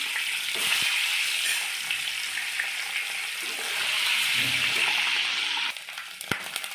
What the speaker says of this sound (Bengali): ডিমগুলো তেলে দিয়ে দেবো